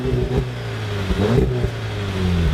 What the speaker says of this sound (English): Go on, rev up your S3.